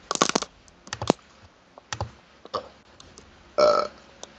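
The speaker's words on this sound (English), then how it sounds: "Two burps." Two burps stand out amid a patter of computer keyboard typing and clicks, one early and one near the end, each short and fairly loud.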